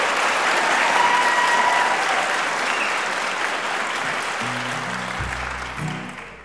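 An audience at a live country music show applauds a guest with loud, sustained clapping that slowly fades, and a few instrument notes enter at the end.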